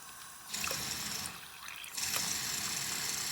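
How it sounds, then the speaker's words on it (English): Water is poured into a model water plant with kelp, in two bursts of steady splashing and trickling that start about a second and a half apart, fairly close and moderately loud, with no talking. "Probably need a little bit more water there."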